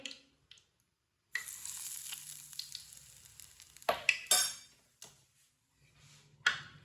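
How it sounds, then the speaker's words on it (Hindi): Hot oil stirred into gram flour (besan) batter for crispy pakoras, a wet scraping and mixing with spoon clinks against the bowl, in bursts with pauses, close and moderately loud. "इसे अच्छी तरह मिक्स कर लेंगे।"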